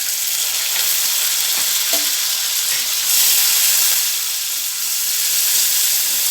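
Tomatoes and curry leaves fry in a pan for mango idiyappam, producing a loud, continuous crackling sizzle with a few soft stirring taps and a brief swell in the middle, no voices over it.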